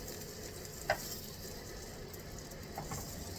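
Garlic and rosemary sizzle gently in a hot pan, a faint continuous crackle with one sharp tap of a utensil, heard close but quiet and with no speech.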